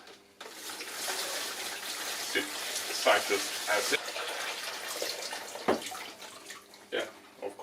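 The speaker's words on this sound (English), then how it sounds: "In the bucket here I have just some hot tap water" Hot tap water runs steadily into a bucket being prepared as a citric acid bath for restoring calipers, a continuous broadband splashing rush with a person talking over it.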